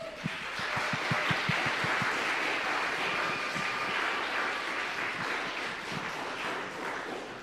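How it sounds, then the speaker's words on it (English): Audience applause fills a church hall after a piano recital, a dense steady wash of many hands clapping that holds for the whole stretch, a few sharper individual claps standing out early on. "can we give her a round of applause?"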